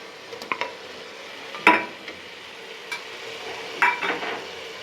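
Chopped tomato goes into a pan of lightly fried onion for a Bengali chicken kosha curry, with a soft background sizzle broken by a few sharp clinks and scrapes of a utensil against the pan.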